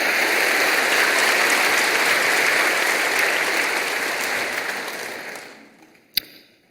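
A large Methodist church congregation in Korea claps in loud, dense applause that holds steady and then fades out, ending with one sharp knock.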